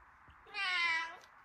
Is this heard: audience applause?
no